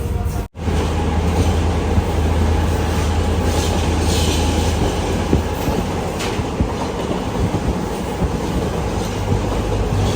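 A passenger train runs toward South Tripura on the Agartala–Sabroom line, a loud, steady rumble of wheels and carriage noise heard close from on board, with faint rhythmic clacks.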